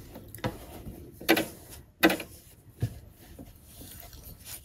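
Sewing machine doing straight edge stitching beside a seam, heard as irregular short mechanical bursts and clicks with pauses between runs, close and moderately loud.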